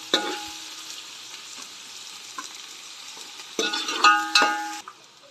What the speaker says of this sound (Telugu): ఉల్లిపాయలను దూరగా వేయించుకోవాలి